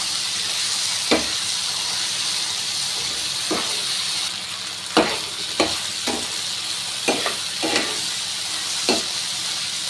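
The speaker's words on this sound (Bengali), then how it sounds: "এবার আমি এটাকে নাড়াবো।" Tomato-based fish curry masala stirred in hot oil for a chara pona fish jhal, with a steady close sizzle and several scraping spatula strokes at irregular intervals.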